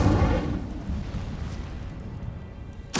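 An Incendio fire spell is cast in Hogwarts Legacy, a booming burst of flame at the start that fades into a low, rumbling roar before a sharp new crack at the end.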